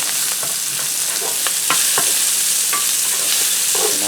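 About 1.5 pounds of sliced sirloin steak and a diced small onion fry in a skillet with a steady, loud sizzle, while a utensil scrapes and stirs in scattered clicks.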